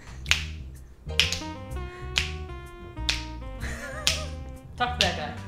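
Crisp finger snaps repeat at a roughly steady beat, about six sharp clicks spread over a few seconds, set against sustained musical tones from a Pokémon Colosseum game.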